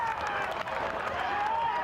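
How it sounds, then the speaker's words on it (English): A home crowd roars at a Heartland rugby semi-final as a try is set up, a dense, sustained cheer and clapping from a large stadium audience, with a commentator talking over it. "Listen to the crowd. Well, they're doing their bit now, aren't they?"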